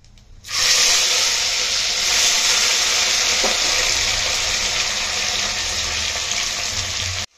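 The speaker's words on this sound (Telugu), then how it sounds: "ఇప్పుడు ఇందులో 1 టేబుల్ స్పూన్ ఆవాలు, 1 టేబుల్ స్పూన్ జీలకర్ర, ఇందులోనే మనం కట్ చేసి పెట్టుకున్న వెజ్జీస్ కూడా వేసుకుందాం." Mustard seeds, cumin and chopped vegetables hit hot oil and ghee in a sambar rice preparation, bursting into a loud, steady hiss of frying that starts abruptly and holds evenly, close up, then cuts off, with no talking.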